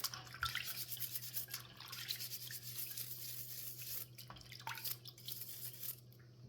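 A freshly scrubbed egg rinsed under a running tap, soft steady water flow with faint rubbing and a few drips, quiet and close.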